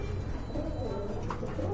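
Pigeons at a sale coo in a short, close, low murmur, a couple of birds overlapping briefly.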